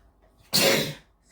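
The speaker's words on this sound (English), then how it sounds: "I'm going to sneeze." A single sharp human sneeze bursts out loud and close, lasting about half a second before quiet returns.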